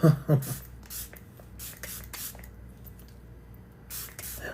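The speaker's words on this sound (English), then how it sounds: "This is the ColourPop setting spray." A few quick hissing bursts of ColourPop cosmetic setting spray, spaced irregularly, over a faint background hum with a soft voice at the start.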